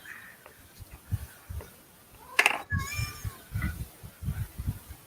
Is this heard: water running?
no